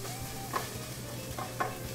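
Garlic, ginger and scallions for a stuffing fry in a pan with a steady low sizzle, broken by a couple of brief stirring scrapes.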